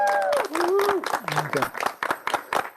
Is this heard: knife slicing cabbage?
no